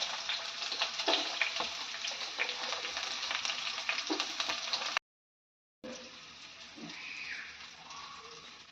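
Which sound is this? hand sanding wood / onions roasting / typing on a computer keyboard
onions roasting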